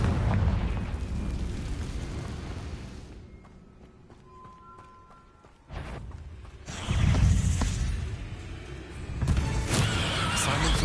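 A Confringo spell in Hogwarts Legacy sets off explosive bursts, with a sudden boom and whooshing blasts in the second half, loud and layered after a calmer stretch, with a voice speaking at times.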